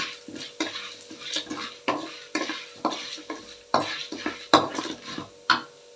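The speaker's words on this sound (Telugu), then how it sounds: "ఇంకా జీలకర్ర వేస్తాను నేను" Cumin seeds sizzling in hot oil for an ivy gourd fry, crackling bursts paired with repeated spoon scrapes and taps against the pan in an uneven rhythm, close and without talk.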